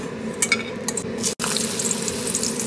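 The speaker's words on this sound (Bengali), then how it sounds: "এবার কড়াইয়ে সাদা তেল দিয়ে বড়িটা ভেজে নেব" Bori, lentil dumplings, frying in white oil in a wok, a steady close sizzle and crackle that runs throughout, with one abrupt brief dropout near the middle.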